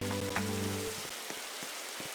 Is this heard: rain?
yes